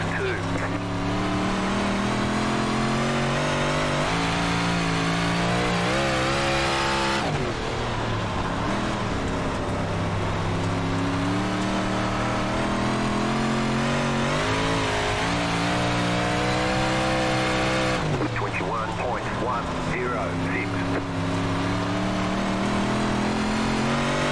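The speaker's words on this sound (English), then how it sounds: "No need for us to full throttle it at the end of the straightaway. All we're doing is making more noise now." Big Block Modified dirt car engine in the iRacing simulation at Williams Grove, roaring loud and continuous with rising and falling revs as the throttle is worked along the straightaway, twice surging sharply, with a voice talking over it.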